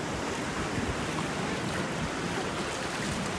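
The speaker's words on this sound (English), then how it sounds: "Okay, there it goes in the waves." Ocean surf washing steadily after liquid nitrogen is poured into the waves, a continuous broadband rush of breaking water with some wind noise, close and fairly loud, no talking.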